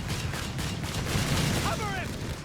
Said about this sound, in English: Fresh rifle squad gets its baptism of fire with Flak 30s.